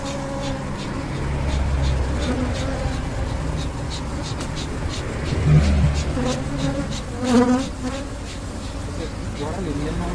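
Dense, steady hum of many bees from a strong, busy beehive colony during a hive inspection, loud and continuous throughout, with a few brief louder swells and faint background activity.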